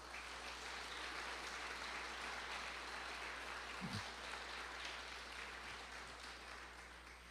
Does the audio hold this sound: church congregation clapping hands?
yes